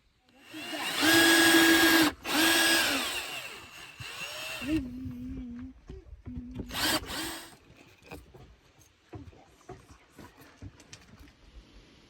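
A power drill drives screws through metal roof flashing beside cedar siding: a loud whining run, a brief pause and a second burst, then lower grinding pulses and scattered clanks fading into quiet.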